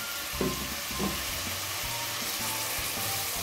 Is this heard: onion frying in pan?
yes